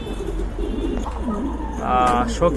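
A female pigeon coos in a loft amid steady background noise, its soft call swelling louder near the end.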